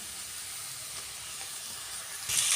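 Green chilies and tomato hiss and sizzle in a hot pan, a soft steady frying hiss that swells louder in the final moments, with no talk.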